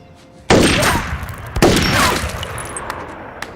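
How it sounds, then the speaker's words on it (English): Gunfire from a film scene: a loud, close shot bursts out, rings and decays, then a second sharp shot follows about a second later with a long reverberant tail, no talking. "Then Lorraine takes the gun to finish off the abortionist"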